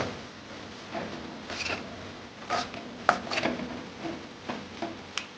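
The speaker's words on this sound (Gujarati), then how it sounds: "હવે એને બરાબર મિક્સ કરી લઈશું." A spoon mixes crumbled leftover roti with Kashmiri red chili powder and garam masala in a pan or bowl, making intermittent soft scraping and rubbing strokes, close by and moderately quiet.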